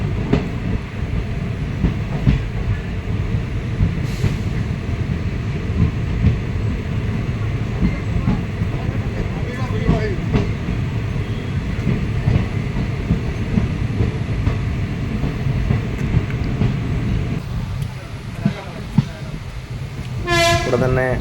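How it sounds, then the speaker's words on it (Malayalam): Madurai-Guruvayur Express pulling out of Aryankavu station in hilly country, a steady loud rumble of rail cars with wheel clatter throughout and a horn-like tone near the end. "ഇവിടെ തന്നെ റെയിൽവേ സ്റ്റേഷനിൽ നിന്ന് ട്രെയിൻ എടുത്തിരിക്കുകയാണ്"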